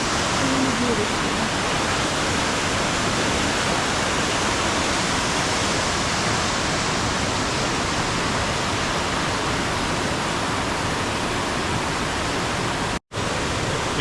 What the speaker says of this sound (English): we hear only the noise of the water